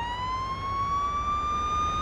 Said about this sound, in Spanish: vamos a poner nuestra sirena